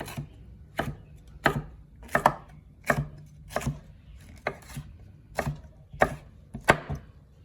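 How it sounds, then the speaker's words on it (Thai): A knife dices a red pepper on a cutting board, about a dozen sharp, evenly spaced knocks with no talking. "แล้วก็ หั่นมาเป็นลูกเต๋าอย่างนี้นะครับ"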